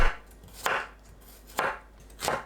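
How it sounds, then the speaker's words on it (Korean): A knife slices garlic on a cutting board in four crisp, evenly spaced chops, close and clear against a quiet background with no voices. "마늘을 편으로 썰어주세요."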